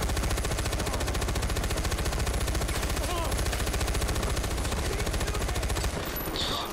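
Sustained rapid automatic gunfire from enemies in the video game Far Cry 4, a dense continuous rattle of shots that stays loud throughout and eases slightly near the end.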